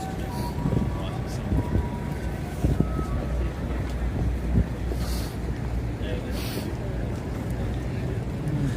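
Wind buffets a microphone outdoors on a city walk, producing loud, continuous low rumble and gusty blasts across the whole stretch.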